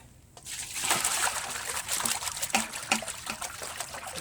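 Water pours and trickles out of a pan holding solidified bacon grease into a bowl outdoors on grass, a steady close splashing dribble lasting several seconds with a few louder splats.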